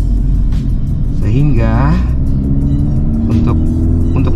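A VW Golf GTI MK6 with stock suspension drives along, its engine a steady, close drone with a brief rising whine, running beneath continuous talking.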